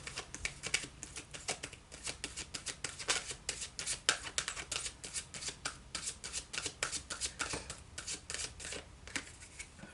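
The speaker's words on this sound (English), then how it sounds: "let's go to the Angel Oracle cards and pick 2" Angel Oracle cards being shuffled and drawn, a continuous run of quick papery riffles and flicks close up for several seconds, fairly quiet, with no talk.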